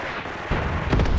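Mortar rounds land in a Graviteam Tactics battle, heard as a rolling, rumbling burst of blasts that swells midway, with crackling impacts layered over distant booming.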